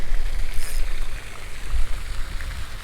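A water fountain in an Ohio pond splashes in a steady, full rush of falling water close by, without pause.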